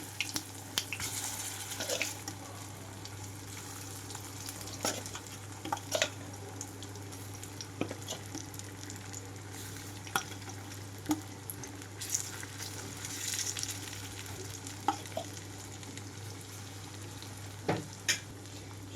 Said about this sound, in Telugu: ఈ కలిపిన ముక్కల్ని ఆయిల్లోకి వేస్తున్నాను